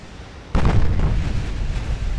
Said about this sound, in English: She's letting my battleships fire as if they're at gunnery practice.